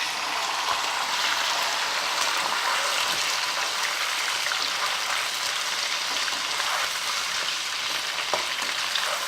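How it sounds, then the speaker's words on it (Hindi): A kilo of washed chicken pieces sizzles loudly and continuously in hot oil, a dense close frying hiss with small crackles throughout and no talking. "मैं इस 1 किलो चिकन को इसी ऑयल में अब फ्राई करूँगी।"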